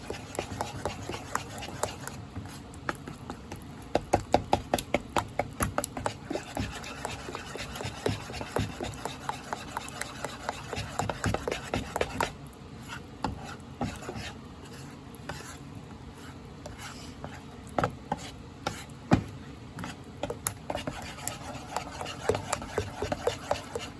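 Cornbread batter being whisked in a bowl that is too small, producing quick steady scraping and tapping strokes close up, fairly loud and continuous with short pauses.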